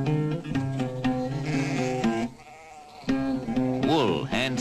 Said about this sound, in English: The black goats have helped to erode the hillsides, but they provide milk and meat for the nomads who herd them